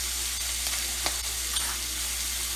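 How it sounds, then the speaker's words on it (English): Pastured steak sizzles steadily in a hot pan as it is basted with butter, a loud continuous hiss and crackle with a few small spoon clicks, close and without talk. "you're going to baste this"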